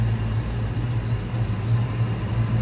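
A 2008 Ford Mustang Shelby GT500 with about 6,800 miles idles smoothly, its low, even engine rumble close and steady with no voices over it.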